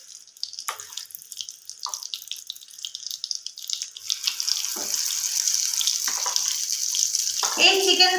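Chicken pieces frying in hot oil in a wok, a steady crackling hiss that thickens and grows louder partway through, with scattered pops and a few soft clinks.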